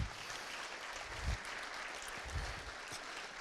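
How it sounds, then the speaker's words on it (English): Applause from a keynote audience at a 2017 talk by speaker Ben Barrett, faint and distant, a soft continuous patter of clapping with a few low thumps, steady across the whole stretch. "So give yourselves a round of applause."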